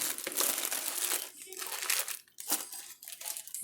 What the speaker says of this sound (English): fold that wax paper over the top of them